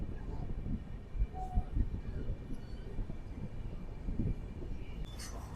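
Passenger train Visakha Express rolling between Vijayawada and Srikakulam, heard as a steady low rumble with rhythmic rail clatter throughout, a brief whistle-like tone and a rising hiss near the end.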